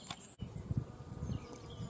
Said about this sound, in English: they're just buzzing, mainly with honeybees at the moment, quite a few mason bees, a few other solitaries